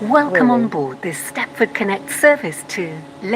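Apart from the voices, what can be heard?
No everyday noises stand out.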